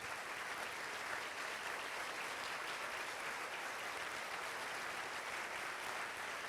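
An audience applauds steadily for former Rose Court members standing at the 100th Rose Queen coronation event, broad continuous clapping filling the room at even loudness with no voices over it.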